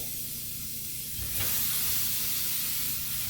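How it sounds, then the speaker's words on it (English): Halved onion roasting dry for a guajillo chile tamale sauce, giving a steady close hiss that swells louder about midway after a soft knock and then holds. "1 onion, cut it in half. And start roasting that."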